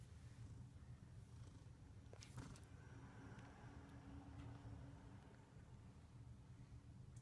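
A cat purrs steadily and softly at close range, a continuous low rumbling with faint rhythmic breathing that goes on without any talk.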